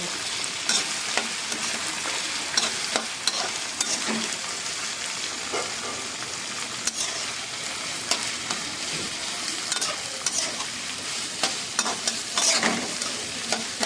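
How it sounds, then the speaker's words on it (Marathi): Paneer roasts in a pan over a high flame, a constant dense sizzle with frequent sharp stirring and scraping knocks throughout, close and fairly loud with no talking. "सगळं आपल्या हाय फ्लेमवरच भाजून घ्यायचं."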